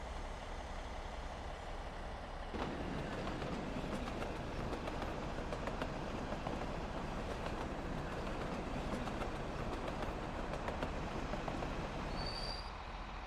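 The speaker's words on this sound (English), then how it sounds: "Trains coming out of the tunnel." Trains roll steadily out of an old single-track tunnel in the video game Workers & Resources: Soviet Republic, a continuous loud rumble of rail wagons with faint wheel squeal, heard alone without talk.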